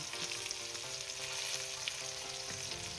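Green beans and potatoes frying in a pan for a Bengali shim chorchori, a dense, continuous sizzle and crackle holding steady throughout, close and alone with no voices.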